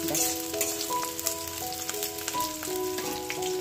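Green chillies frying in a pan, a dense continuous sizzle and crackle close by, with faint tonal hum and soft stirring touches underneath.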